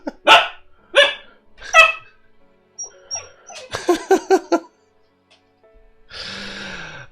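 A rambunctious pet dog barks several times in quick, close bursts, followed by a short run of rapid yaps and then a breathy snort or huff, loud with quiet gaps between.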